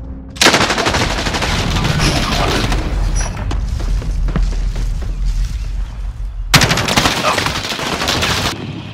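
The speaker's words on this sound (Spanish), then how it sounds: "Uy, me dispararon." Call of Duty Warzone gunfire rips out in two loud, dense automatic bursts at the start and near the end, with scattered shots and booms in between.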